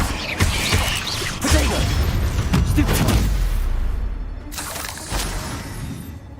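Incendio fire spell cast in Hogwarts Legacy, a crackling burst of flame and magical impacts with shattering, booming hits, dense and busy for several seconds before a brief lull and another flare.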